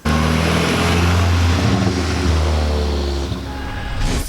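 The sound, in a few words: MK4 VW Jetta GLI 1.8 turbo engine with muffler delete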